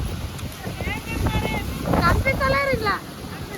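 Wind buffets the microphone outdoors at a village goddess festival, a low rumbling roar that swells and fades under people talking nearby.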